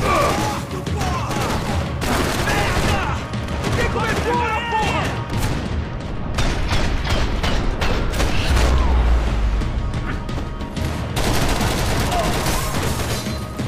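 Gunfire in the video game Max Payne 3 comes as rapid, dense bursts of shots and crashes that run almost without pause, with a voice talking over the din.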